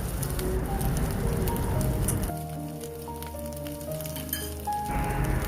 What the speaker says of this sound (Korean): 달궈진 후라이팬에 양파와 감자, 마늘, 매운 고추를 넣고 볶아줍니다